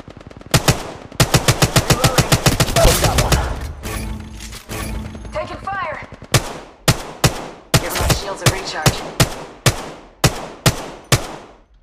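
Automatic gunfire in the Apex Legends Mobile video game: a long dense burst of rapid shots, then a broken run of single loud cracks spaced about half a second apart, with no talk.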